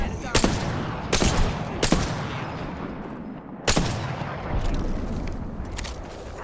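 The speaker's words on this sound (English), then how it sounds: "Getting shot at." Gunfire in the video game Apex Legends: several sharp, loud bursts of shots at irregular intervals, separated by quieter stretches of background game noise.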